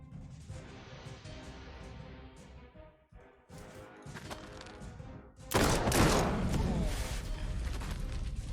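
Gunfire in a World War II strategy video game, with scattered shots and crashes over a game soundtrack, then a louder burst of impacts toward the end.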